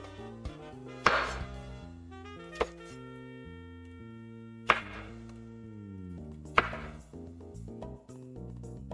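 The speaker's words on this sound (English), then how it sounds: "I'm gonna cut these up, these shiitakes up, kind of thinly" A knife cuts shiitake mushrooms into thin slices on a cutting board, a few sharp, separate chops spaced a second or two apart, with soft musical tones running underneath.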